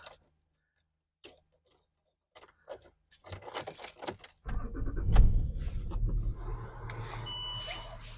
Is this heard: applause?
no